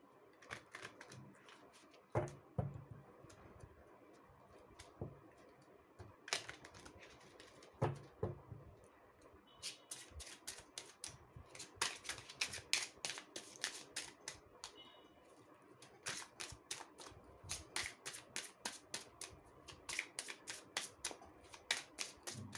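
A tarot card deck being shuffled up close, with soft card handling at first, then rapid bursts of crisp riffling clicks that repeat steadily through the rest.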